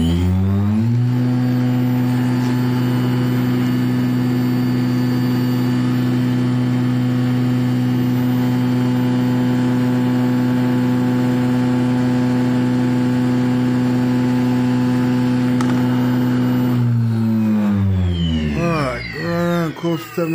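A motor spinning a magnet holds a loud, steady high-speed hum near 7,000 RPM for most of the stretch, then winds down with falling pitch and rattles near the end.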